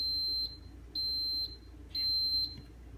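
Three high electronic beeps from a baby bottle warmer signalling the end of its heating cycle, each a clear, fairly close tone about half a second long, separated by short gaps over a low background hum.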